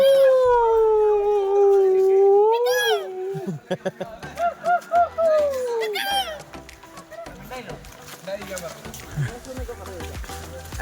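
A dog lets out a long, rising howl, then gives several short yelps and whines, with voices chattering close by.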